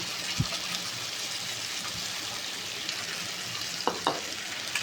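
A paste of ground cashew, coconut, poppy seed and raisin fries in a pan for a kofta curry, giving a steady close sizzle with a few soft scrapes of stirring.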